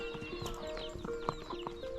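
Horse hooves clip-clop in a quick, steady rhythm during an early-morning horseback ride through the Viñales valley, close and moderately loud, with faint background noise.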